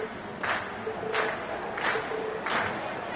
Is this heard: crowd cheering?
yes